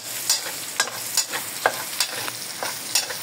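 Garlic sizzles steadily in a pan while a utensil stirs it, giving sharp, regular scraping strokes about every half second, up close and without talk.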